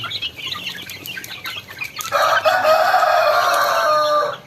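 Seven-week-old Barred Plymouth Rock chicks peep and cluck close by, a busy patter of short calls that rises to a louder, sustained chorus of chirping partway through.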